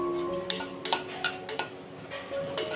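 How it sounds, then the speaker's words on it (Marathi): Dry fruits such as cashews and almonds tossed in ghee in a pan, with a spoon clinking against the metal in irregular taps and scrapes, close and moderately loud, no talking. "आता हे थोडेसे मी परतून घेते तुपावर"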